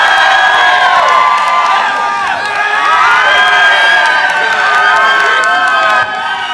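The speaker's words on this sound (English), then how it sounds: "So if I can get a shout from the Munster crowd before we start." A Munster crowd at a Scór Sinsir competition shouts and cheers loudly and steadily, many high voices whooping together throughout with no break.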